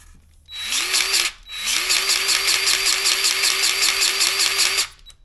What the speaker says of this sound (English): now we're going to use the Harbor Freight grease gun to get these greased up